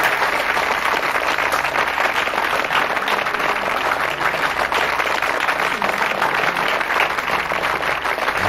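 A studio audience at an Urdu quiz programme claps for the winner, dense continuous applause that stays loud and steady throughout.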